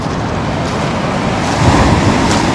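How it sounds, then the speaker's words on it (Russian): Sea waves break and wash onto the shore at the resort of Lazarevskoye near Sochi, forming a loud, continuous roar of surf mixed with wind noise, with no voices. "Мы с вами опять на море."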